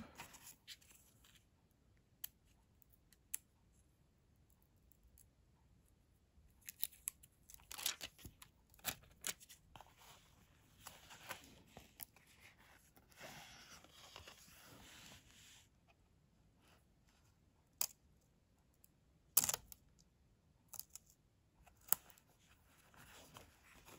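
Scissors snip postage stamps at a desk, trimming the corners as they are sorted into an album: a faint, sparse series of short sharp cuts and paper crackles spread across a quiet room, with no talking.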